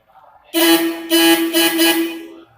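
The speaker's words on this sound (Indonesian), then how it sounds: "setelah rangkaian positif dan negatif pada rangkaian klakson, kita coba tes apakah rangkaian ini sudah benar atau tidak" Vehicle horn wired into a test electrical circuit blares in several loud, close honks: one long blast, then shorter bursts in quick succession, with no voices.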